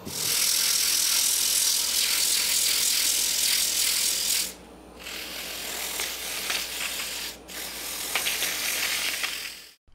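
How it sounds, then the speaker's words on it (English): A turned wooden piece spins on a lathe while being sanded, giving a loud steady whirring hiss that drops abruptly midway, then continues more softly with brief breaks before stopping. "Now, I'm gonna sand this and once it's sanded, then we're gonna turn it around."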